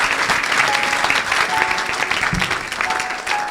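Congregation applauding for Jesus at an evangelical church service, a steady, dense wash of clapping from a large crowd filling the space without pause.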